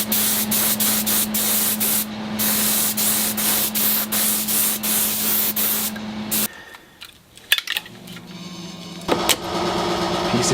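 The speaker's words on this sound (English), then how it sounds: "just triggering it without pulling the trigger really heavily so that the fluid flow is initiated" A spray gun lays a light dusting coat on DIY carbon fiber parts made from pourable foam, giving loud, continuous hissing bursts that stop briefly and then start again, close up with no talk.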